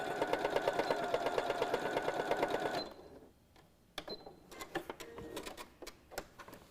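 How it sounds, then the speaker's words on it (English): Sewing machine stitching quilt binding: a close, fast, steady mechanical whir-and-tick for about three seconds, then stops, followed by quiet handling clicks and rustling of fabric. "I'm just going to sew, leaving that 1/4 inch."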